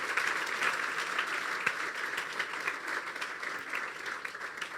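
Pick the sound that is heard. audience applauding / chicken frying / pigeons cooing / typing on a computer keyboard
audience applauding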